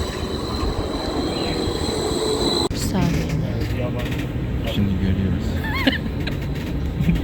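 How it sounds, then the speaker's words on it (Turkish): A tram in Istanbul rolls in with a low rumble, wheels squealing and clattering; people talk nearby as it draws up at the stop. "Tramvay geldi şimdi."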